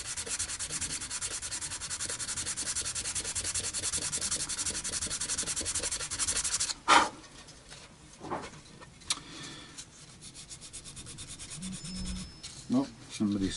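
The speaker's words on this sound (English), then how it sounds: "technically speaking, I could probably do a tiny bit more sanding" Steady, continuous rasping of sandpaper rubbing lacquer on a Baby Taylor guitar headstock for several seconds, then stopping, followed by scattered knocks and handling noises.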